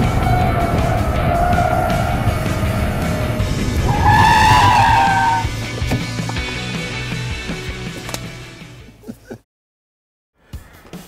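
Mazda CX-5 family car driven hard on a race track, tires skidding and squealing loudly through turns over engine roar, with a rising screech midway before the sound fades and drops out near the end.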